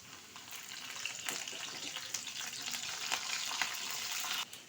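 Ginger and green chili fry in a pan of oil with garlic, giving a steady, dense sizzle that holds for several seconds, with a few brief stirring scrapes and no talking.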